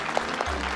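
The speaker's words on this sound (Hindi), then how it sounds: "यहाँ तालियां बजती है" Applause erupts in a comedic Hindi TV show scene about a Diwali celebration, a brief burst of clapping that stays steady and fairly loud throughout the short moment.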